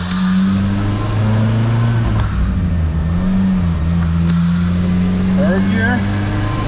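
A 1986 Plymouth Voyager's 2.2-liter four-cylinder engine drones loudly on a chassis dyno during a full-throttle pull, its steady tone climbing and dipping between gear changes and filling the space up close.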